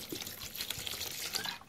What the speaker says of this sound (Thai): ล้างด้วยน้ำเย็นนะครับ ล้างด้วยน้ำเย็น ให้บอระเพ็ดมีสีสันสวยงามนะครับ